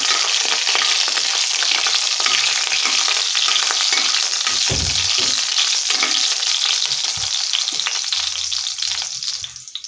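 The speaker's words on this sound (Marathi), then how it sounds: "इथे मी 1 मिरची चिरून घेतलेली आहे। दोन मिनिट हे परतून घेऊया।" Chopped green chilli sautés with curry leaves in a hot pan. A loud, steady, close sizzle runs throughout, broken by occasional stirring scrapes and clinks, with no talk.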